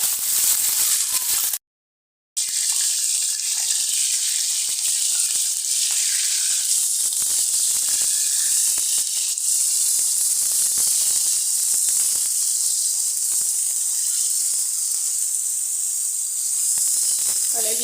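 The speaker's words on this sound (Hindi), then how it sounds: "ऑयल गर्म हो जाए हम इसमें कलेजी को फ्राई करेंगे।" Goat liver pieces (kaleji) fry in hot oil on a tawa, giving a steady, loud, close hiss and sizzle that runs almost unbroken, with one brief dropout near the start.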